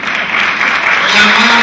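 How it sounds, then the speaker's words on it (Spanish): A seminar audience applauds actors in a brief burst of clapping that holds steady and fairly loud for under two seconds, with no speech over it. "un aplauso a los actores, por favor"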